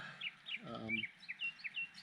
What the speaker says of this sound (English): you probably hear a bunch of birds doing their thing